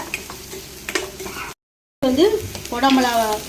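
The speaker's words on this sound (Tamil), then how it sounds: "பூண்டு இஞ்சியை போடுறேன்." Garlic and ginger hit a hot pan and sizzle loudly, with stirring and a brief clatter of utensils; the frying cuts out for a moment, then resumes strongly with a steady crackle close by.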